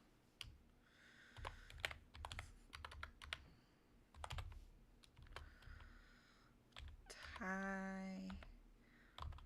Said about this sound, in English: I'm just gonna type it in